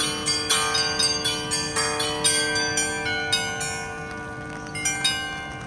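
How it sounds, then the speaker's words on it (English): The Federation Bells, an art installation of 39 upturned bells, ring out in a steady overlapping sequence of struck tones, each strike leaving a long shimmering decay while new chimes keep arriving at a moderate, loud level. "It's 39 bells pointing up, and they sound something like this."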